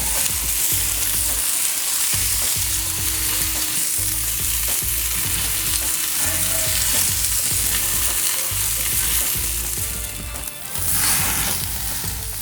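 Mushrooms sizzle and fry in butter in a pan beside steak, a loud, dense, crackling hiss that carries on steadily, with scraping stirs and short pulsing bumps underneath.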